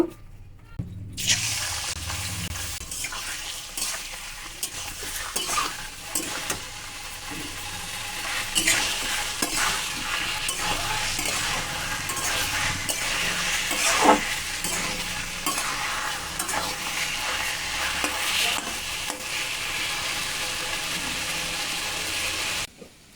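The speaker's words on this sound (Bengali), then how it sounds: "ওই তেলেই মাংসটাকে ভেজে নেব" Meat fries in hot oil with a steady sizzle, joined by scraping and stirring clatter from a utensil against the pan, louder bursts recurring throughout.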